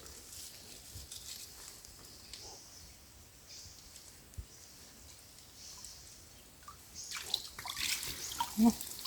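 Water sloshing and splashing as freshly caught small river fish are washed, a soft continuous watery wash that swells into louder splashes near the end, with a voice faintly present.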